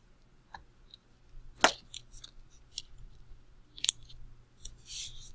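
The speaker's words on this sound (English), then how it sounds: "I'm going to cut and paste this triangle on." Scissors snip through paper to cut out a triangle, giving a few sharp, quiet clicks and snips spaced apart at close range over a low steady hum, with no talking.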